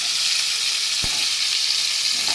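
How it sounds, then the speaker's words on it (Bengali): Cut potatoes frying in oil in a pan, giving a steady bright sizzle close by, with one brief low knock partway through and a faint stir near the end. "আলু কোটা একটু ভেজে নেব।"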